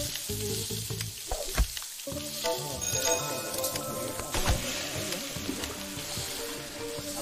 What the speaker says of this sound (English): I got a load of Salisbury steaks cooking